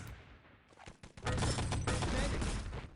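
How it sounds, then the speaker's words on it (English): Gunfire in the video game Enemy Territory, with a few sharp shots followed by a dense burst of rapid firing and clatter, heard close and loud. "Nice shot from Kapot, easy"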